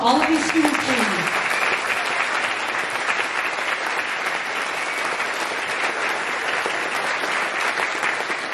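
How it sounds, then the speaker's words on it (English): A crowd at school morning announcements applauds student teams with sustained clapping that carries evenly to the end, after a brief spoken word at the start. "So one more round of applause for all of these student teams."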